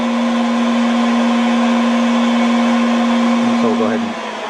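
Motor of a gear tooth sensor test rig running at higher speed, a loud steady electric whine with a strong constant hum that drops away near the end as a voice briefly enters.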